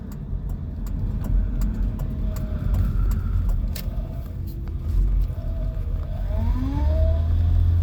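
A brand new Honda sports car sweeps past on the road after tailgating, a steady close road rumble with a rising whine near the end, no talk over it.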